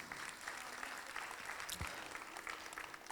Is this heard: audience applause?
yes